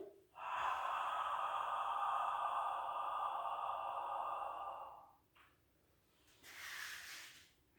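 A long, slow, breathy exhale during a Pilates exercise lasts about five seconds, close and soft, followed by a brief pause and a shorter second breath.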